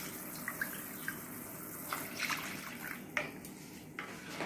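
Thin gram flour batter is poured into a pot of simmering tomato kadhi, a soft, steady liquid splashing and pouring with faint drips, heard alone at low volume.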